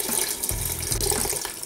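Water pours steadily into a cooking pot, poured in while making a braised Greek beef stew with sugar, oregano, pepper, salt, cinnamon, allspice and cloves; a continuous close splashing flow with no talk.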